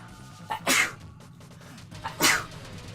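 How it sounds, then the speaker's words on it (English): Two sharp sneezes from one person, spaced about a second and a half apart, each a quick burst standing alone over a quiet background. "I sneezed."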